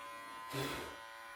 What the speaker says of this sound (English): I'm really just using one corner of the clipper.